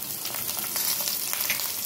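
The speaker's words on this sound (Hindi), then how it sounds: "अब इसमें हम हरी मिर्च डालेंगे" Green chillies frying in a cumin and fenugreek tempering give a steady, close, fine crackling sizzle that holds evenly throughout, with no voices.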